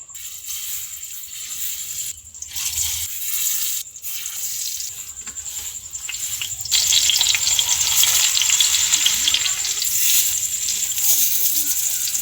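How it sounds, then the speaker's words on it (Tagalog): Saba bananas fry in hot oil, making a continuous close sizzle and bubbling that rises in intensity partway through, with faint kitchen clatter. "Start na tayo sa ating pagprito ng saba."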